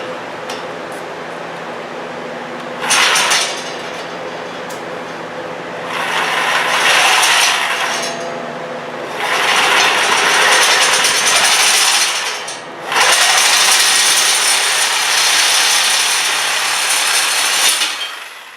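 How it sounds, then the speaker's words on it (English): A Sawzall reciprocating saw cuts through metal on a portable welding and plasma table build, loud rasping bursts coming in four long runs separated by short pauses, with no talk. "That Sawzall makes quick work out of it."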